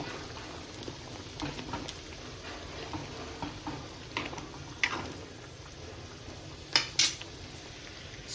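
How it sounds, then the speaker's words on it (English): Chole masala fries in a pan for Punjabi chole, a continuous sizzle broken by scraping stirs and clinks of a spoon against the metal, louder near the end. "Let it fry well for a minute. I don't want my chole to burn."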